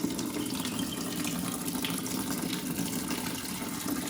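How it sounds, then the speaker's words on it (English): Water runs steadily into a bucket in a garage beside an '86 IDI diesel truck, a constant close rushing fill with no break. "we'll just pretty much fill this bucket up"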